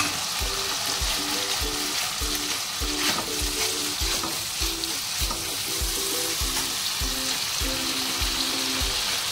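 Boiled chickpeas fry with spices for chana masala, a loud, close sizzle broken by regular scraping stirs with a rhythmic thump, and no one speaking.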